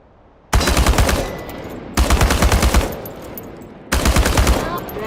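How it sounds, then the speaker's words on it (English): An automatic weapon fires at cans in the Chernobylite video game, three loud sustained bursts of rapid shots, each separated by a brief pause. "The biggest challenge is compensating for recoil in automatic firing mode."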